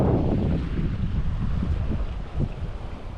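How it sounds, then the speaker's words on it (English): Strong wind blowing outside after a stormy night, buffeting the microphone with a constant rushing roar and irregular gusts, loud and close throughout with no voices. "Still quite windy."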